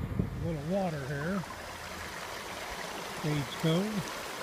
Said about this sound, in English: A little water here.